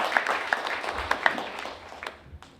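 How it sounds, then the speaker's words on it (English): Audience at a literary festival panel on creativity and community claps for a panelist, a modest scattered round that fades out after a couple of seconds. "A round of applause for our first panelist."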